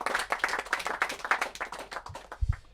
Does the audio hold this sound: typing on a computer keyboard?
no